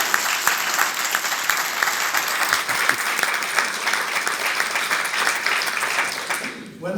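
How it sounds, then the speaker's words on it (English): Audience applause at an integrative health convention, sustained dense clapping from a large crowd throughout, fairly loud and even, tapering off at the very end. "So can we just give them applause?"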